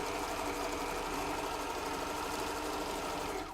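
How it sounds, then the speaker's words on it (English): A sewing machine stitches a one-centimetre seam allowance in fabric for a face mask headband, its motor whirring in a steady, continuous drone at close range with no pauses and no one talking. "The first thing I'm going to do now is go straight to my sewing machine"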